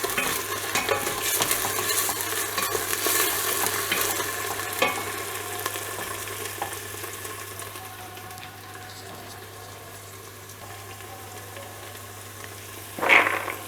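Tomato paste sautéing in a pan, a steady close sizzle with repeated stirring scrapes that settles quieter toward the end before a brief clatter.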